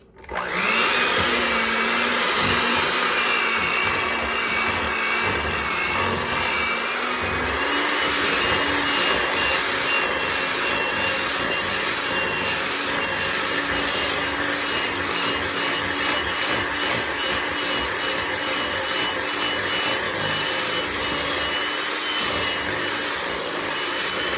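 An electric mixer beats batter until creamy for a blueberry lime loaf, a loud, steady motor whine running throughout with slight shifts in pitch.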